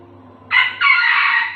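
A rooster crows loud and close, in two connected bursts with a brief dip between them, over a low steady background hum.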